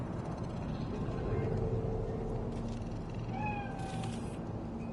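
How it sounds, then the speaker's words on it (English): A cat in the game Cyberpunk 2077 meows a few times, clear rising calls near the end over a constant low ambient hum of the game. "Do you see it? The cat."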